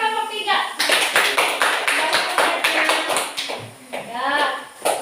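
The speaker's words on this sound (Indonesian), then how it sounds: "Oke, tepuk tangan untuk kelompok 3." A classroom group claps for student group 3, with distinct, fairly rhythmic hand claps close by, and children's voices heard at the start and again near the end.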